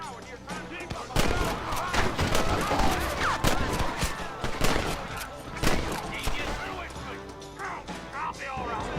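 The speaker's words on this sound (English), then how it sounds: "The shooting honestly feels really solid, like it's smooth." Gunfire in the video game Red Dead Redemption, a rapid, dense exchange of loud cracking shots from several guns, irregular bursts close up, with game voices mixed in.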